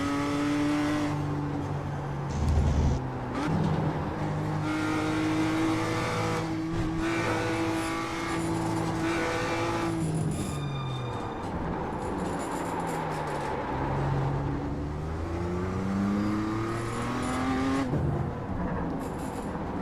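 BMW M2 race car engine in the iRacing sim on a fast lap at Winton, loud and continuous, climbing and dropping through gear changes with revving surges and brief lifts into corners, no talking.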